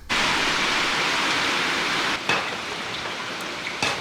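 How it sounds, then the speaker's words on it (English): Heavy rain pours steadily onto a metal sheet roof in Costa Rica, a dense loud hiss and patter close by, with a couple of brief louder bursts and no voices. "The rain was so heavy. It was so loud."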